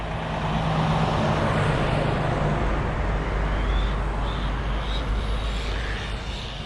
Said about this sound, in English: Couple of cars coming.